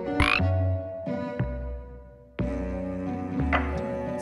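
Loud, close croaks from a frog in the forest in the game Storyteller, sounding as several separate calls with short pauses between them, with a brief hush before the last calls. No voices.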